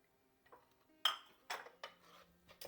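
A spoon clinks and scrapes against a bowl while stirring an egg and orange zest mixture, with a few sharp, close metallic knocks in an irregular rhythm against a quiet background.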